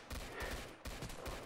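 Rapid gunfire bursts from a weapon in the Roblox game Zombie Attack, a dense rattling fusillade of repeated shots filling the short moment, fairly quiet overall and without speech.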